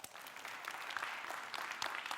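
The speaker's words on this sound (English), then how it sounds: "Clap it up." An audience at a youth leadership conference claps steadily, a dense burst of applause from many hands filling the hall.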